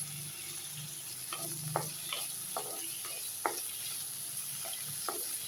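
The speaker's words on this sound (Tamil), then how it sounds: "இதை வதக்கிக்கலாம். கூடவே ஒரு தக்காளி, ஒரு 5-6 தேங்காய், ஒரு கொத்து கருவேப்பிலை." Small onions, tomato, coconut and curry leaves sauté in a pan with a steady low sizzle, broken by a series of distinct scraping stirs, with no talk.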